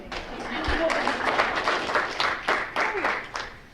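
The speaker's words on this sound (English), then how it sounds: "After applause" Steady applause from a crowd at a school board meeting, sustained clapping for a few seconds with a faint voice underneath.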